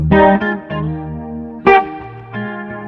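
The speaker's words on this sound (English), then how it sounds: "it sounds to me like he's got a chorus on his acoustic guitar" Acoustic guitar notes shimmering through a chorus effect, a few plucked chords ringing with a wavering, doubled quality.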